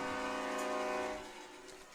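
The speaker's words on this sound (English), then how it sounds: "the fireworks and the train whistle are going off" A train whistle blasts at a high school football game before kickoff amid fireworks, a sustained harmonic tone that holds loud for about a second and then fades under crowd noise.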